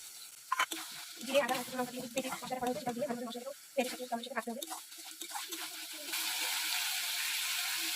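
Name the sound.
onion, chili and tomato frying with spices in pan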